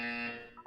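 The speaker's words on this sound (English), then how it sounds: "You will hear a buzzer." An electronic buzzer in the modded video game Portal sounds a single steady, harsh tone that holds for about half a second and then cuts off as another brief tone starts.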